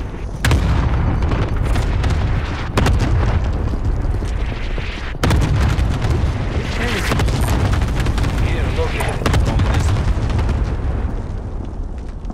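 Heavy artillery strike explosions in Call of Duty Modern Warfare boom one after another, loud and close, with rumbling bursts and scattered gunfire filling the whole stretch as voices talk underneath.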